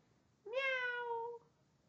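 A cat lets out a single drawn-out meow, clear and close, with a steady tone for about a second before stopping in a quiet room.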